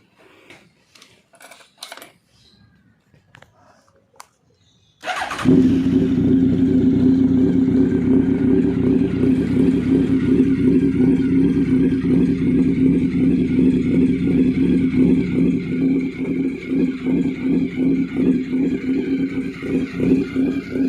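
A stock 2002 Honda CB1300 motorcycle with dual exhaust pipes starts after a few faint knocks, then settles into a loud, steady idle with a deep, even throb for the rest of the clip.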